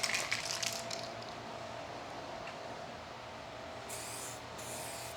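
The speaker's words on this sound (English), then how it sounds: "Let's go ahead and finish the first coat of clear." An aerosol can sprays clear coat onto a car fender outdoors in hot weather, a steady close hiss that holds the whole time with small breaks and changes in pressure.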